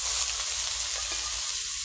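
Ginger, garlic and onion sizzle steadily in hot oil with cumin, whole garam masala and cardamom, a continuous close hiss with no voices.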